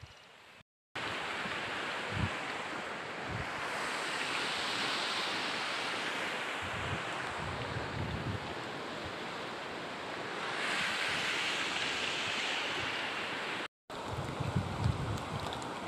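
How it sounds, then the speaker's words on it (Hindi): Lake water washing steadily along the shore, a broad continuous rushing wash with gentle swells, close and fairly loud, with brief breaks and no talk. "देखो दोस्तों कितनी अच्छी आवाज़ आ रही पानी की, बहुत ही अच्छी।"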